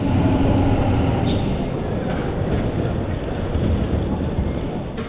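A Sydney train heading to the airport rolls along with a loud, continuous rumble and rattle inside the carriage, with faint clicks and brief squeaks over the steady roar.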